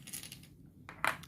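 Splendor Duel board game tokens clinking together on a table, a few light, close metallic-sounding taps ending in one sharper clack, with no talk.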